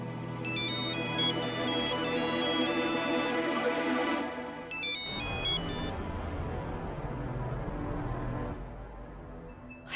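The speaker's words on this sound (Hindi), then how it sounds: "नलिनी, फोन उठाओ बेटा" A phone ringtone plays a bright repeating melodic pattern in two bursts, loud and close, over a sustained background music bed in a TV drama scene.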